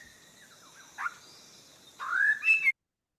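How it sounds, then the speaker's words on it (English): A bird sings a few thin whistled notes over a quiet background, ending with a brighter rising phrase before cutting to silence. "Linda added that recording to the Macaulay, we know what that bird sounded like at that place and that time."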